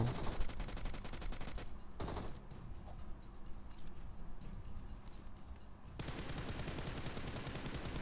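Rapid bursts of video game gunfire crackle densely, pausing briefly before resuming in loud sustained volleys.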